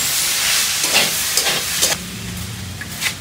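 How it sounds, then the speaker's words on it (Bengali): Winter vegetables with onion stalks and potatoes cook in a pan, a continuous close sizzle with several brief bursts of stirring or clatter, no talk. "পেঁয়াজের চালি দিয়ে আর আলু দিয়ে শীতের সবজি হচ্ছে রান্না"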